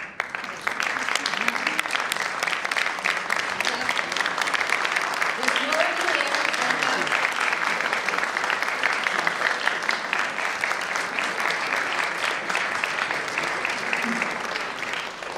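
Sustained audience applause fills a judge's induction ceremony for a civil court judge, a dense, steady clapping from a large crowd that runs the full length at even loudness.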